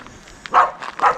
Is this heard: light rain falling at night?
no